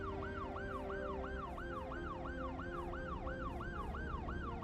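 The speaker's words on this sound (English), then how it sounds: "Is that what ambulances sound like?" An ambulance siren in Cities: Skylines 2 wails in a fast, regular up-and-down sweep, steady and continuous over low traffic-like rumble.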